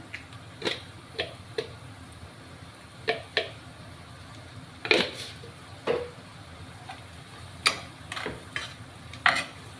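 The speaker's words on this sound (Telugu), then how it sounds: "మసాలా అయితే నూనెలో ఏవితే స్మెల్ అనేది అదిరిపోతుందండి" Masala of cinnamon, cloves, salt and turmeric frying in oil for egg curry makes a faint, low sizzle broken by scattered sharp clicks and scrapes of stirring at irregular intervals, with no voices.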